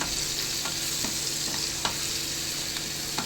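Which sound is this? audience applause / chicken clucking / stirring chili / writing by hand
stirring chili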